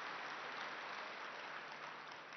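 A gathered audience at a spiritual talk claps together in a continuous, even patter of many hands, faint and somewhat distant throughout.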